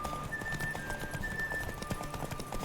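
A horse gallops in The Witcher 3 video game, quick rhythmic hoofbeats thudding steadily and fairly close, with a faint high tone running behind them.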